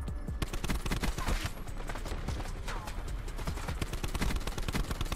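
Rapid gunfire from a Gravity Spikes-era Black Ops 4 multiplayer match, dense bursts of automatic shots crackling continuously and loudly throughout with no pauses.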